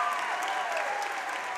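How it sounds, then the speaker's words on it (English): Steady, loud applause fills the gym at a 2022 girls basketball championship as Haddon Heights players leave the court, with crowd clapping dense and continuous throughout. "Haddon Heights players coming off and getting a well-deserved round of applause"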